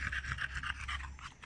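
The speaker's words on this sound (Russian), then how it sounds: "Рыкнула на Эйсика" A small dog, one of a French bulldog, spitz and dachshund group outdoors, gives a low, close rumbling growl mixed with panting, steady across a short moment with no talk.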